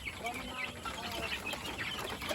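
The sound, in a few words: chickens clucking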